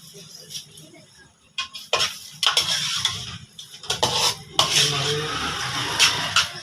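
A utensil scrapes and clinks against a pan as fried rice is stirred and sauce is added, in irregular loud bursts with a faint background hum.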